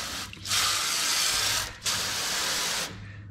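Garden hose spraying water to rinse degreaser off machine shop parts, a steady broadband hiss in two long bursts with a brief pause between, close and fairly loud.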